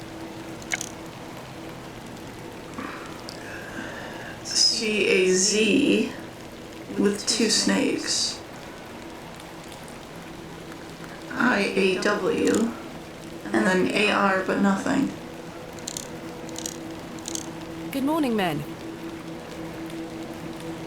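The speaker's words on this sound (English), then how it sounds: "A little rain is no bother." Rain falls steadily in the point-and-click game The Excavation of Hob's Barrow, a soft constant hiss running beneath intermittent spoken dialogue.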